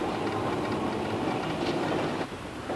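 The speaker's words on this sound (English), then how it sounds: "the Glenelg tram has been rattling its way down to Adelaide's premier seaside resort for more than 60 years" A vintage Glenelg tram in Adelaide rattles steadily along its tracks toward the seaside, a close, continuous clatter of wheels and carriage with no pause throughout.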